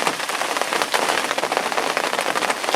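Heavy, unforecast rain pours steadily on a carp-fishing lake, a dense close patter of drops drumming on nearby surfaces with no let-up.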